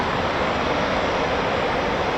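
A Eurofighter Typhoon FGR4 jet taxis at the RAF Coningsby airbase, a steady, loud broadband engine roar and whine holding constant throughout with no speech.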